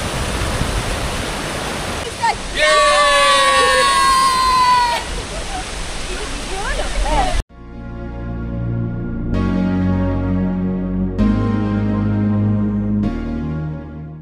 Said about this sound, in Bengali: ওয়াটারফলসের একদম সামনের ভিউ।